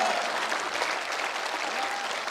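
Audience applause at a Hindi hasya kavi sammelan (comedy poetry recital), a steady wash of many hands clapping that holds evenly throughout with no break, faint whistle-like tones briefly audible within it.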